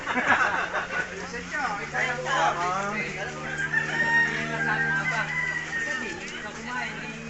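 Chickens cluck and a rooster crows amid steady background chatter, with people talking throughout, close by.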